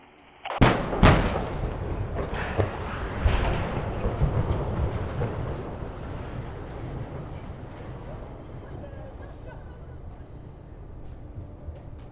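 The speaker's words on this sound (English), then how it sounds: "After the safe and successful blast" A coal terminal structure at Port Kembla, New South Wales, brought down by explosive demolition: a sharp, loud blast cracks out, followed by further booms and a long, heavy rumble of collapsing debris that slowly fades.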